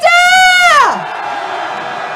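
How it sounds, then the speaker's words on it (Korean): Crowd shout at a candlelight protest rally in Seoul marking the Itaewon disaster, a loud sustained roar of many voices near by that swells, then breaks off into a fainter murmur of the crowd. "탄핵의 함성 질러봅시다. 함성 시작!"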